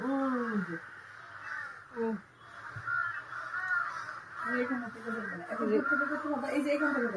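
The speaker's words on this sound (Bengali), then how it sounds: "একটা কাক একটা বাচ্চা কাক গাছ থেকে পড়ে গেছে সেটার পিছনে উপর থেকে এখন সব কাকেরা" Several crows caw repeatedly in harsh bursts, some close and loud, others overlapping, with brief pauses between calls.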